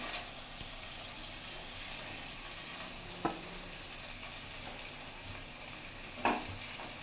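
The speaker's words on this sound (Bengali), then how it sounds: "আমি বাটার দিয়ে চিকেনটা ভাজছি।" Chicken pieces frying in butter in a pan, giving a steady, soft sizzle throughout with two brief louder crackles or stirring clatters partway through, no talking.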